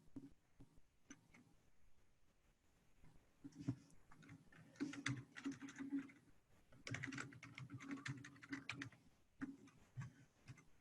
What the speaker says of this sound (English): If you are bored while people are still typing in values, feel free to make it pretty.